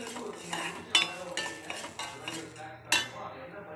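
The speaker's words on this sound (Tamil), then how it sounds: "நிறம் மாறுற வரை, வாசனை வர்ற வரை வறுக்கணும்." A metal spoon scrapes and clinks against a pan while lentils are roasted in oil for idli podi, a series of close, uneven taps and stirring scrapes with quieter rattling between them.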